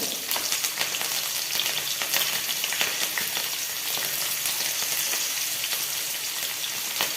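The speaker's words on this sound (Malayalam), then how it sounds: "എണ്ണയിലേക്ക് തന്നെ നമുക്ക് ബാക്കിയുള്ള ഇത് ചെയ്യാം. ആദ്യം നമുക്ക് 2 വെളുത്തുള്ളി ചതച്ച് ഇട്ടിടാം." Crushed garlic and green chillies fry in hot oil with a loud, dense, continuous sizzle and crackle that runs close and unbroken from start to finish.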